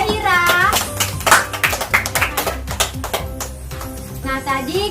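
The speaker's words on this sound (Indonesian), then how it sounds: "tepuk tangan dulu untuk kelompoknya Zahira" A classroom of children bursts into bursts of rhythmic clapping for a student group, close and loud, with children's voices chattering throughout.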